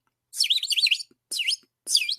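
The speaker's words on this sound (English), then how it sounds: "This is not a frog. This is a bird." Bird calls ring out in three bursts of quick, warbling chirps, close and clear against silence, with a few faint clicks between phrases.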